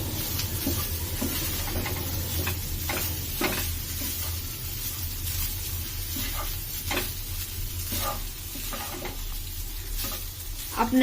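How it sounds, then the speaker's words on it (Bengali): Leftover refrigerated cooked rice stir-fried in a pan for vegetable fried rice, a steady sizzle under repeated scraping and stirring strokes of a spatula, close and continuous throughout. "এ পর্যায়ে আমি আগের দিন রাতে রান্না করে রাখা ফ্রিজের ভাতগুলো দিয়ে দিব।"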